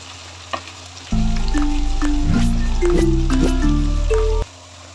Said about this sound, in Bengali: পেঁয়াজ কুচিগুলোকে আমি বেরেস্তা করে ফেলবো, একদম লাল লাল করে।